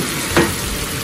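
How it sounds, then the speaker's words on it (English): Artichokes cooking in a butter and lemon mixture, a brief steady sizzle with one short stir or pan scrape near the start, no voices. "I'm going to take the artichokes and add them to the butter"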